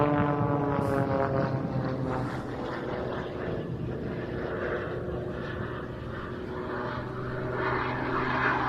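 A Pitts Special aerobatic biplane climbs steeply into the vertical at the International Ayr Show, its propeller engine giving a loud, steady, harmonic drone that holds for the whole stretch.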